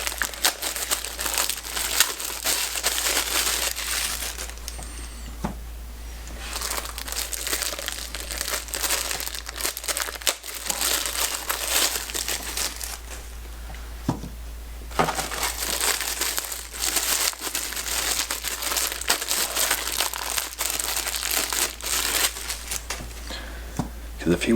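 Baseballs are unwrapped from crinkly plastic packaging, producing dense, close, continuous crinkling and tearing in two long stretches separated by a brief quieter lull.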